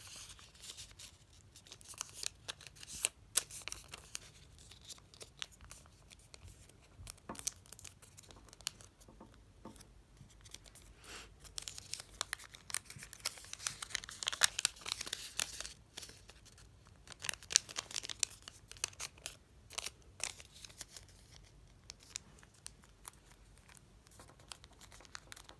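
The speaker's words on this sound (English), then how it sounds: "first, we're going to do corner to corner fold, and then side to side fold." Origami paper being folded into a heart model, corner to corner and then side to side: soft, faint crinkles and paper rustles with scattered sharper creases throughout.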